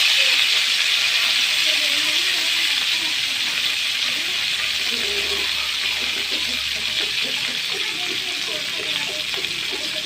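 Chopped large onions hiss and sizzle in hot oil in a pan for a tamarind curry, a dense steady frying noise under a voice speaking Tamil.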